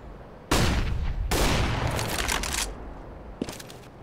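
A flashbang grenade detonates in a video game with a sudden loud blast and crackling burst that tails off, followed by a smaller sharp bang near the end.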